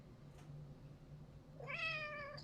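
A cat gives a single drawn-out meow, close and clear, rising then falling over a quiet room with a low hum and a faint click beforehand.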